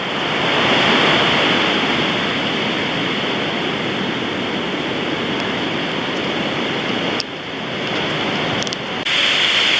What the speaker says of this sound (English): There are some big, big waves breaking out there.